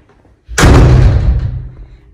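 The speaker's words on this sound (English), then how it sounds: "today is the last day that I will be unlocking this door" An old apartment door in Germany shuts with one heavy, loud thud that booms and fades over about a second and a half after a short near-silent pause.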